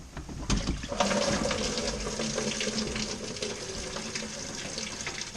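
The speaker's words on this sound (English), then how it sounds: "once I take this lower hose off, all the coolant's going to drop out the bottom" Coolant gushes out of the lower radiator hose of a 2000–2004 Nissan Xterra with a VG33E engine and splashes into a bucket, a sudden loud pour that settles into a steady close splashing stream.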